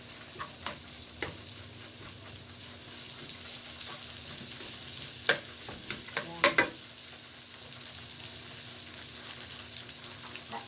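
Onions sautéing for a homemade spaghetti sauce, a soft continuous sizzle with scattered spatula taps and a brief cluster of clatters, close by with no talk.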